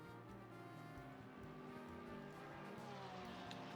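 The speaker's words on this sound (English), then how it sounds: "me turn up the volume so we can actually hear the car noises" Engine noise from GT3 race cars in a sim racing game at the Zolder circuit, a steady dense roar with layered engine tones held at constant level for the whole stretch, no voices over it.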